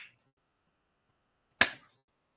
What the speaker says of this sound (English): Sorry for the loud clap.